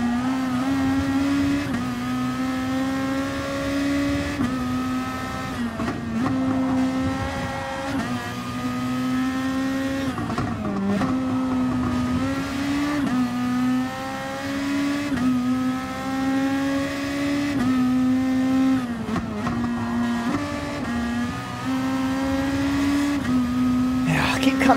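Race car engine lapping Brands Hatch in the GT Sport video game, a loud steady engine drone with rising and falling pitch through gear changes, someone talking over it throughout.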